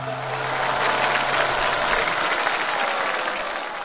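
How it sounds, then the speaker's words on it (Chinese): A television studio audience gives a steady round of applause for a female DJ, an even, muffled patter of many hands that swells gently and then tapers over a few seconds. "掌声送给高高"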